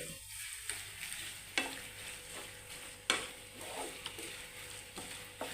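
Egg thoran, a Kerala-style scrambled egg and vegetable dish, stirred in a pan over high flame, with steady frying hiss and repeated scrapes of the spatula against the pan.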